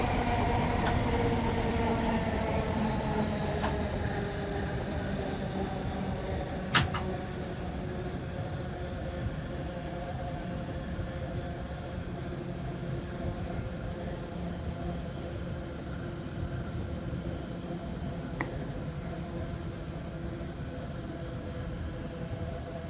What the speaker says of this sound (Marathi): हे काय फास्ट ट्रेन आहे ना ही?